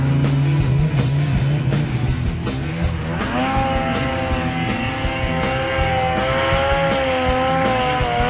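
A Polaris snowmobile ridden off-trail in deep snow in the Monts-Valin, its engine droning loud and close, pitch sweeping up as the rider accelerates and holding a high, steady whine.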